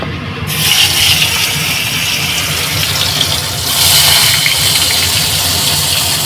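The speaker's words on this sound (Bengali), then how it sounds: "মাছটা ভাজতে দিয়ে দিই।" Fish frying in oil in a home kitchen, a steady broadband sizzle that runs continuously and close by, swelling louder in the last couple of seconds, with no talk over it.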